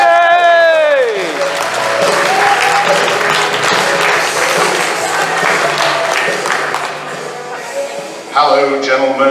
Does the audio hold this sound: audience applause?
yes